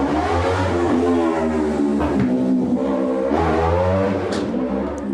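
A motorcycle passes along a street in São Paulo, Brazil, its engine loud and close, with a steady revving drone that swells and eases over a few seconds without any voices.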